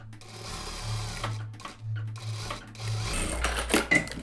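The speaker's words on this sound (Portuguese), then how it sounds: "agora eu vou costurar de um lado, passar pelo ombro" Sewing machine stitching a child's festa junina dress along the side and over the shoulder, running in short humming bursts with pauses between, close by, with handling noise toward the end.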